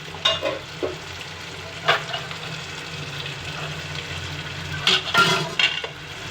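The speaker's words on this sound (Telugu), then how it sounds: "గ్రేవీ వేసింది కదా అందులో కొంచెం వాపరుస్తాను చూడండి" Fish curry gravy sizzles in a pan while a spoon stirs it, with several clinking scrapes against the pan over a steady frying hiss, close and fairly loud, without talk.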